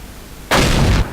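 Tank cannon firing in the World of Tanks video game: a single loud, sudden blast lasting about half a second, heard alone with no talk.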